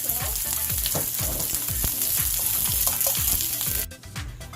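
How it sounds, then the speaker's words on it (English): Onions fry in a hot skillet with a steady, close sizzle and bursts of crackling spatter, a few soft scrapes, and the sizzle drops off abruptly near the end. "Now our onions are cooking"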